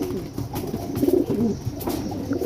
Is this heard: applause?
no